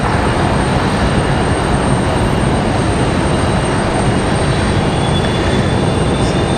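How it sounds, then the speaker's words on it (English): An American Eagle Embraer E175 regional jet preparing to depart at Raleigh-Durham International Airport, a steady, loud broadband jet engine roar with a faint high whine, constant throughout with no talk. "Got an American E175 getting ready to go."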